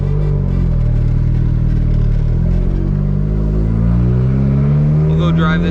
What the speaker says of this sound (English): let's let this thing warm up a minute and we'll go take it for a ride